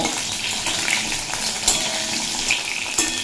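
Pointed gourd (potol) frying in hot oil with black cumin and dried chillies, a dense, steady sizzle with occasional light clinks of a utensil against the pan, close and fairly loud, no talking.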